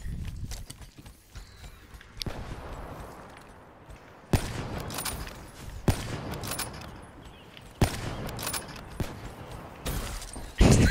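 Sniper rifle shots ring out in a video game, several sharp, loud cracks spaced a couple of seconds apart, each followed by a short decay, over a low background of game noise and clattering.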